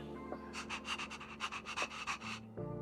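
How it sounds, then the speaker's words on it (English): A pet dog in the video game Honkai: Star Rail pants in about ten quick, rhythmic breaths over a steady, soft musical hum, ending with a sustained tone. "This is Asta's pet dog."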